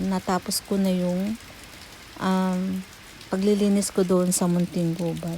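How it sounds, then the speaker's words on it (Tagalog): Steady rain falls outdoors in Japan ahead of an approaching typhoon, a soft continuous hiss beneath someone talking almost throughout. "May darating daw bagyo kaya ayan, umuulan."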